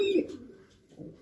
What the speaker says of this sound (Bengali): আলাদিন লাইনের মাদি কবুতর